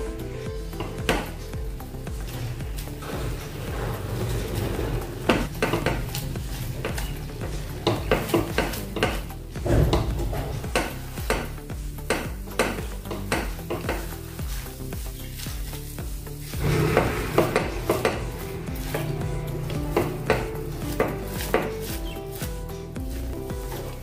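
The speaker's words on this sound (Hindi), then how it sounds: "अच्छे से इसको भी हम मिला देंगे, यानी मिक्स कर लेंगे।" Semolina being mixed with a spoon in a pan for crispy suji aloo vada, with repeated clinks and scrapes against the metal over a light sizzle, all beneath steady background music.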